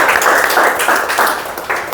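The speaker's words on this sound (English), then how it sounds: "let's give yourself a big round of applause" Audience applause for leaders attending a Sunday morning learning session, a steady dense wash of many hands clapping that swells in waves and carries on for the whole stretch.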